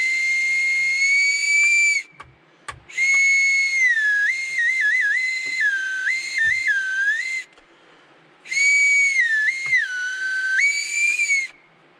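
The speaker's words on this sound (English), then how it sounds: "So I thought that was pretty cool, like a little survival whistle." A small handmade bamboo whistle blown in long, shrill, wavering tones, several separate blasts with brief gaps, loud and close, with pitch sliding slightly within each.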